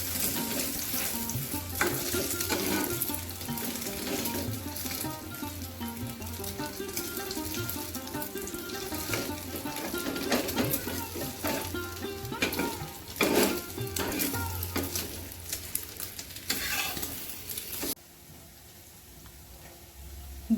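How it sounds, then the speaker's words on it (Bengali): A two-egg omelette fries in oil in a pan, with a continuous sizzle and occasional stirring and utensil clinks throughout, then fading abruptly near the end. "দুটো ডিম একসাথে করে নিয়ে মামলেট করছি"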